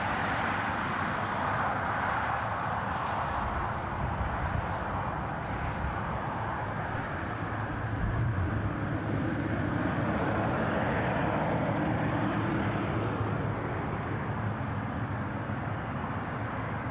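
A heavy airliner passes at Newcastle International Airport, its engines a broad, sustained roar that rises and falls gently at a moderate distance, with no talk.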